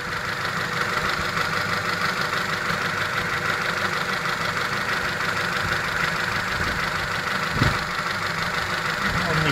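A steady mechanical whine and hum from a Honda Shuttle's power steering pump at idle, with a faint thump partway through; no voices.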